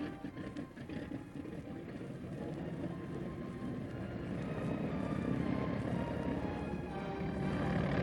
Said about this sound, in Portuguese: Os motores começaram então a trabalhar.